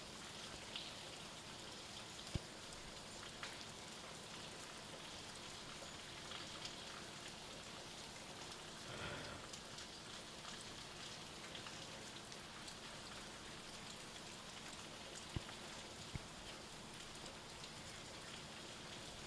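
Continuous rainfall in House Flipper 2 hissing and pattering evenly, with a few sharper drips here and there; a calm, unbroken downpour without speech.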